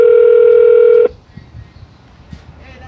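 A steady telephone dial tone sounds loud and close for about a second during a call back, then cuts off to quiet handling noise.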